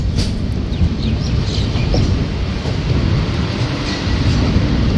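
The Rupasi Bangla Superfast Express runs along the track with a loud, steady rumble and faint rhythmic clatter, heard from on board with no talking.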